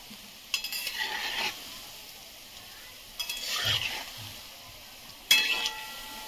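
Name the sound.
raw banana koftas frying in oil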